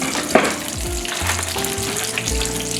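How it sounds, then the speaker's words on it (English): Noodles are stirred in a pot of boiling water with a wooden spoon, giving a continuous close bubbling and sizzling wash with a few soft knocks and scrapes on top. "We'll stir up these noodles"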